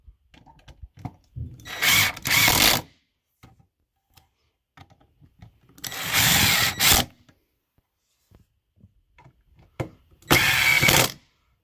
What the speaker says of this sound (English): I've got some of these screws already started, so I'm going to go ahead and put this leg together.